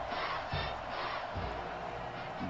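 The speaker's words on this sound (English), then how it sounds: "Man, this crowd amped up." A stadium crowd at a college football game, Clemson against Georgia, roars and cheers in a sustained, distant-sounding wash with a couple of swelling surges.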